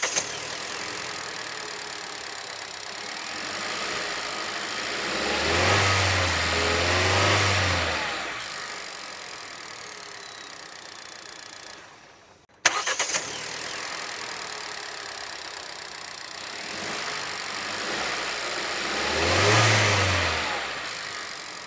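Hyundai Creta 1.5 litre four-cylinder petrol engine revved twice at a standstill, each burst rising to a loud peak and falling back to idle, with a brief cut between the two revs.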